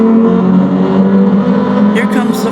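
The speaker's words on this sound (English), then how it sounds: "Here comes the Ferrari and Sasaki neck and neck" A Ferrari race car at Daytona in a racing video game roars by with a loud, sustained engine drone that stays steady throughout, and a commentator talks over it.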